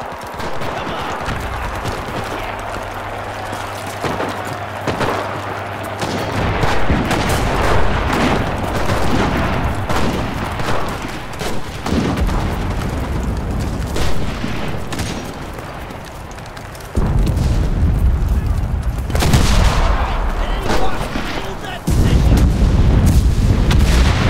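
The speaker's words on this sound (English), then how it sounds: "Artillery! Fire!" Artillery fire and gunfire in the video game Enlisted during a Normandy invasion battle at Ver-sur-Mer: loud continuous barrages of booming explosions and rattling shots, dense and close, with heavier blasts building toward the end.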